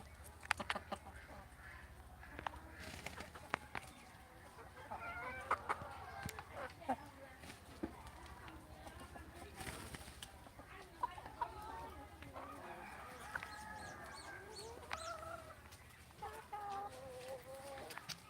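Farm chickens cluck and call in a steady, busy chorus at moderate distance, with sharp knocks and clatters scattered through and a person talking now and then.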